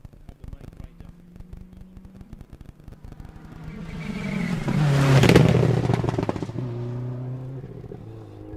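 A rally car on a forest special stage approaches and passes, its engine rising to a loud revving peak then fading away, with gravel clatter and faint background noise.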